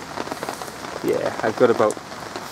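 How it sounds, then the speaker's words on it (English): Steady pattering rain falls on a flood defence lake, a soft even hiss beneath someone speaking briefly close by. "If this rain carries on like this, the water levels will rise"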